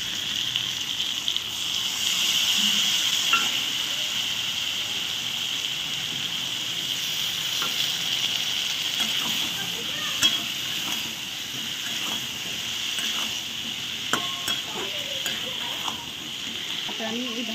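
Potatoes added to a sizzling spiced vegetable curry of chilli, coriander and cumin powder paste, with a steady loud frying hiss and occasional clacks of a spatula stirring, close up and continuous, no talk.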